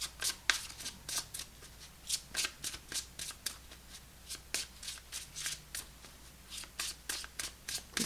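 Tarot cards being shuffled by hand, a steady run of crisp riffling bursts repeating roughly every half second, close and fairly quiet, with no talking.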